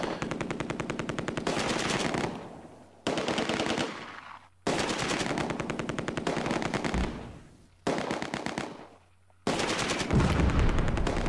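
Machine gun fire in the World War II strategy game Close Combat: A Bridge Too Far, long rapid bursts of loud automatic shots repeating in several sustained strings with brief pauses between them.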